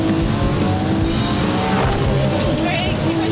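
A Lamborghini Aventador roaring at speed, loud and continuous engine noise with passing road rumble throughout.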